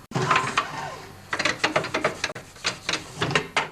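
Murray snowblower motor turned over by hand so the friction disc spins, giving a dry ratcheting clatter of gears and mechanism in irregular close bursts.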